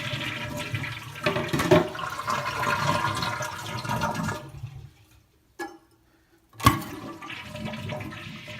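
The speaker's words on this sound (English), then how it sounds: "I'm going to give it a nice little flush" A toilet flushes nearby with a loud rushing swirl of water draining from the tank, then a brief lull and gurgling refill splashes as the tank is being emptied during removal.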